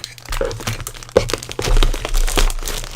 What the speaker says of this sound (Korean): 비닐을 천천히 뜯어보겠습니다.